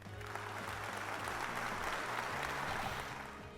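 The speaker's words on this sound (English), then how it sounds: "Big round of applause for Sarah" Crowd applause plays at an award ceremony in the video game Murder by Numbers, a steady wash of clapping that runs evenly for a few seconds under soft background music.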